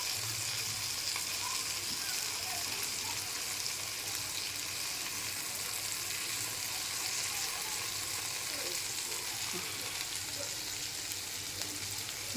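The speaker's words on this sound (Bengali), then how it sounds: "আমি মাছ ভাজা ফিরিয়ে দিয়েছি।" Hilsa fish fries in a pan with a steady, dense sizzle that holds evenly throughout, close and continuous with no talking.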